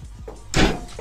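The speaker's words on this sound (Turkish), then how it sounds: "kapıyı açsana babamla" A door swinging open in a Turkish TV drama home, heard as a soft thud and brief rattling burst midway through a quiet room, with low murmuring around it.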